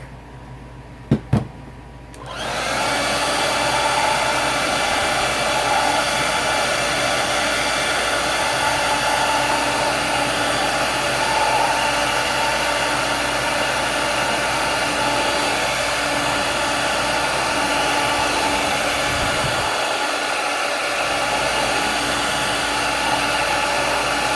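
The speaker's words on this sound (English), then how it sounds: "We're going to hit it again with the blow dryer real quick." A blow dryer runs steadily at close range, drying paint on a jar, after a couple of sharp clicks as it switches on. It then holds a loud, even whir for the rest of the time, with no talking.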